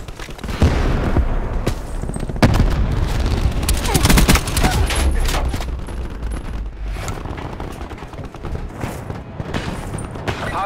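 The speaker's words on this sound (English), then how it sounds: "Frag out." Frag grenade blast amid gunfire in Black Ops 4 on the Summit map in Safeguard mode, heavy explosion near the middle surrounded by bursts of automatic weapon fire, loud and close, with game ambience.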